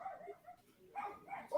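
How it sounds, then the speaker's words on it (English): A small dog barks inside a house, faint and muffled by walls, giving a few short yaps spread over a second or two, the last ones slightly louder. "Is that the dog in the house barking?"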